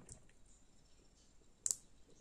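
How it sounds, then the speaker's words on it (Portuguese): Latch on a fiber optic connector snapping into place with a single crisp double click, close and quiet, in an otherwise near-silent room. "ela dá até um estalinho quando encaixa"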